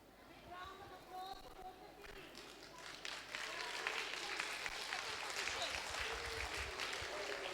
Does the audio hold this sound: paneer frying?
no